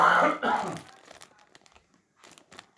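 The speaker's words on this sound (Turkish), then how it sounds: "Hemen şu paketi açalım biraz." A toy package being opened, with loud close crinkling of plastic packaging at the start, then fainter scattered rustles and ticks, with a brief quiet stretch near the end.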